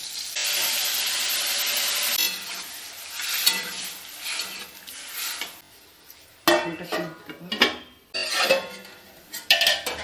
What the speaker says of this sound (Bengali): এবার ডালটা দিয়ে দিচ্ছি এর মধ্যে।